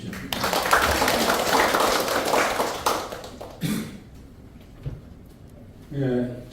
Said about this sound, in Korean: 큰 박수를 청해 주십시오.